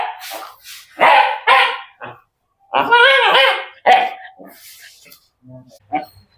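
A dog with rabies barks sharply and repeatedly at a private veterinary clinic, loud and close, in short bursts separated by pauses, ending with fainter whimpers and yips.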